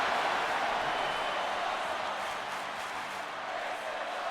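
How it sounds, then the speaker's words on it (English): A wrestling arena crowd roars and chants in a steady, dense, loud wash of many voices that holds for several seconds with no breaks. "As the crowd chants along"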